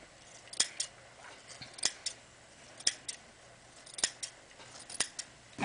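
Scissors snip darts into fabric for a beach bag, with about six crisp, evenly spaced cuts close by in a quiet room.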